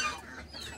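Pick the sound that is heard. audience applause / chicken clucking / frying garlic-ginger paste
chicken clucking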